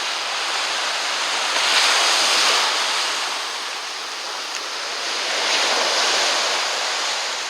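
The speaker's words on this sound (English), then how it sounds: "Hope you like listening to the crashing waves." Waves crash and wash onto a beach in a continuous roar of surf, swelling and fading in slow, broad surges.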